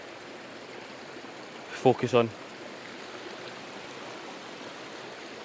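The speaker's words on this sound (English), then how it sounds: "So I made it to the waterfall." A small waterfall and stream at Ben Lawers Dam in Scotland give a steady, broad rushing hiss throughout, with someone speaking briefly over it partway through.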